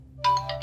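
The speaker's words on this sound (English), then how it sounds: "It's ringing." A phone ringtone starts abruptly and sounds in repeated electronic bursts, loud and close, in a quiet indoor scene with no talking.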